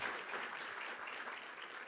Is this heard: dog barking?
no